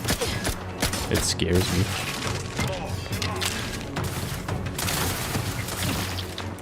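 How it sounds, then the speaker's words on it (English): SMG gunfire in The Outer Worlds 2, a slow-firing weapon producing repeated shots and thumps amid mechanical clatter and booms, with a person talking briefly over the shooting. "since this SMG fires so slowly, it is kind of ammo conserving"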